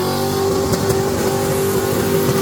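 An LS V8-swapped Ford Territory SUV revs hard, its loud, close engine holding a strong steady drone with throttle surges and no talk over it.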